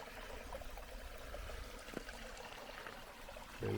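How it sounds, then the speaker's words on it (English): A mountain stream in New Hampshire rushes over stonework in a continuous, even wash of flowing water, close and unbroken throughout. "This is the stream that flows down the mountain into a larger lake."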